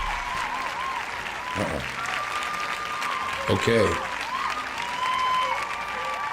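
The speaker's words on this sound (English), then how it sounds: "Y'all hear the applause" Applause rises from a live crowd at a casual morning gathering, a steady wash of clapping that swells briefly mid-way and near the end, with a voice talking over it.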